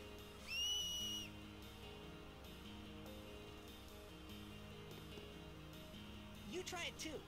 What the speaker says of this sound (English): It's called a whistle.